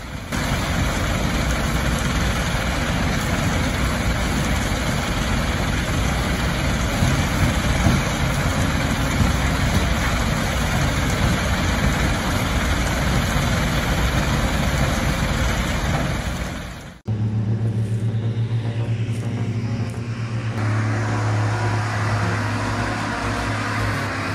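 A Kleemann MR 130 ZS mobile crusher with direct diesel drive roars loudly and steadily for most of the clip, then cuts abruptly to a lower, humming engine tone.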